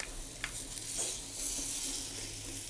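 Chopped jackfruit seeds fry with curry leaves in a pan while being stirred, giving a steady sizzle with occasional scraping clinks from the utensil.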